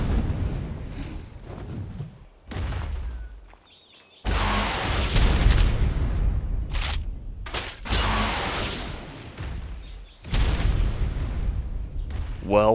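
Rockets fired at a Giga in the survival game ARK on the Valguero map burst into loud, heavy explosions, several booming blasts separated by short quiet gaps, with people talking between them.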